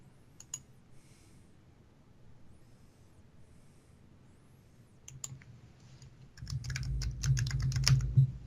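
Typing on a computer keyboard, quiet scattered clicks at first, then a fast run of loud key presses near the end, close to the microphone with no talking.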